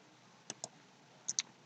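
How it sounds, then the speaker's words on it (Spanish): Several sharp mouse clicks in AutoCAD, two single clicks then a quick close pair, crisp and near against a faint background hiss with no talking. "Entonces le doy clic acá."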